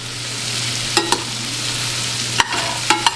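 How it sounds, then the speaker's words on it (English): Roux for Louisiana seafood gumbo stirred constantly in a pot over a low steady hum, with a faint sizzle and a few sharp scrapes and clinks of the spoon against the pot. "We've got the roux constantly stirring here."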